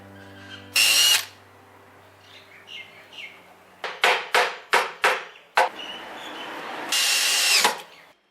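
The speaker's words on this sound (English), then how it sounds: "The prongs of the fork are then screwed and countersunk." Power drill driving and countersinking screws into the fork prongs of a wooden cello stand: several short loud whirring bursts in quick succession, bracketed by two longer sustained drill runs, close up with no talk.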